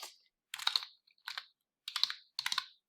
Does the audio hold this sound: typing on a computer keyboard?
yes